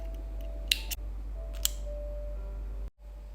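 Scissors snip through the string of a handmade 108 prayer bead necklace, two quick close sharp cuts followed by a third, set against a steady low hum and otherwise quiet surroundings.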